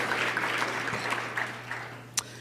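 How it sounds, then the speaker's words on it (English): Faint, steady applause from a seated conference audience welcoming education reform leaders, a soft even patter of many hands heard from a distance over a low electrical hum, with one sharp clap-like click near the end. "That does deserve applause."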